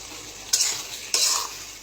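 An egg frying on a stove, a quiet background sizzle broken by two bursts of louder hissing and scraping about half a second apart, with no voices.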